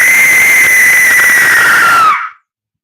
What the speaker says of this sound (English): It's an Aztec death whistle.